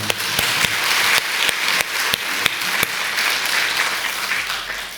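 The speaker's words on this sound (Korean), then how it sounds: "우리 찬양대 참 잘해요. 다시 한 번 박수 해줘요." A church congregation applauds its choir after a hymn, dense sustained clapping filling the room, fairly close and steady for several seconds with a few sharper individual claps standing out.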